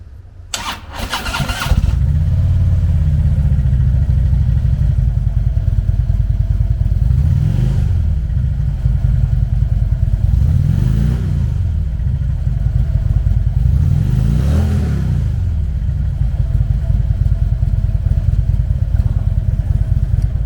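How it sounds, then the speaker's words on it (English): A 2014 Harley-Davidson Tri Glide Ultra Classic with a 103 cubic inch V-twin cranks and fires up, then settles into a loud, steady, close idle with a lumpy throb and a few slow swells in revs. "Powered by a 103 cubic inch V-twin motor, the Triglide puts 100 foot-pounds of low-end torque through a 6-speed transmission."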